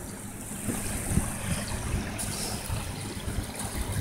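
Sea water laps gently at the shore of a beach in Bajo de Guía, Sanlúcar de Barrameda. A soft, continuous wash of water with small splashes plays close by, without talking.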